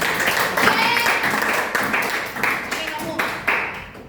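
A class of students applauding in a classroom, a steady patter of many hands clapping with some voices mixed in, close and fairly loud throughout.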